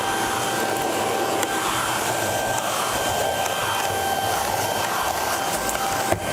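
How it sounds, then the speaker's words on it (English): A small, compact vacuum cleaner runs continuously at steady volume, a close, loud motor whine with airy suction noise and no break, used on a stairway. "I can use this to vacuum up like the stairway"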